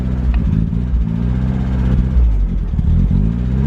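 A rebuilt turbocharged Mazda Miata engine idles roughly and steadily up close, a loud low rumble with some uneven clattering throughout and no talking.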